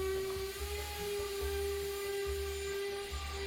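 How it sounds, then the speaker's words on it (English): A power sander runs on a white oak desk top with a steady high whine and a throbbing low drone, continuous and close throughout. "I moved on to sanding out the top and the bottom of the desk"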